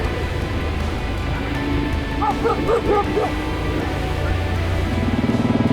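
Flock guard dogs barking on a mountain trail, a short cluster of several barks and yips rising midway over a steady loud background rumble, the dogs at moderate distance.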